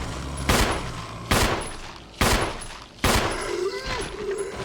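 Four loud gunshot blasts at uneven intervals in Resident Evil 0, fired at zombies, each with a sharp crack and a reverberant tail, over a low background rumble.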